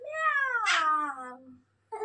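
A young boy imitates a cat's meow with his voice: one drawn-out, wavering meow that slides downward, followed by a short second yowl after a brief pause.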